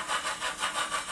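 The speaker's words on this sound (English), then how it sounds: "decrease in the throttle chuff sound, and we get some rod clank as well" Soundtraxx Econami decoder in an OO model steam locomotive, a 2-6-2T, giving a steady rhythmic chuff as the throttle eases, with rod clank. Roughly five even beats in quick succession, close and moderately loud, no voices.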